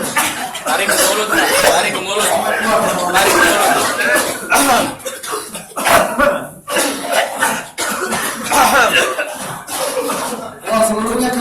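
Crowd at a ruqyah session coughing together, loud overlapping coughs and throat clearing in a steady barrage with brief dips, close and unbroken throughout.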